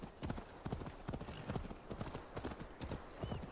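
Hooves pound in a fast, even gallop as a horse runs in Assassin's Creed Valhalla, the repeated thuds close and prominent and continuing throughout, with no voices on top.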